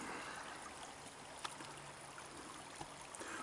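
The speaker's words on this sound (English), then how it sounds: "the water's coming straight down" Water runs down a washed-out forest trail like a small stream, a steady, faint rushing trickle that continues unbroken throughout.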